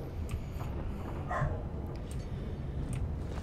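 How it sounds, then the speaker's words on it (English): Dogs bark in the fantasy video game Dragon Age II, a few faint, brief yelps rising out of a steady low ambient rumble, distant and easy to miss. "Dogs are barking at nothing again."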